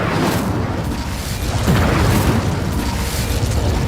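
A fiery Incendio spell blast in the video game Hogwarts Legacy, a loud, dense booming burst that swells near the middle and rumbles steadily across the whole stretch.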